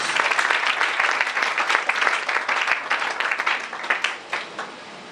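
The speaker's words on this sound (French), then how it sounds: "Acclamons pour le Seigneur Jésus." A church congregation applauds steadily throughout a service, dense continuous clapping from many hands filling the space, fairly loud and unbroken with no speech over it.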